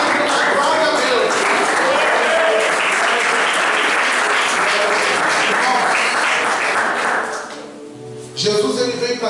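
Church congregation clapping for Jesus during a worship service, a loud, dense, sustained round of applause that drops away abruptly near the end before voices resume.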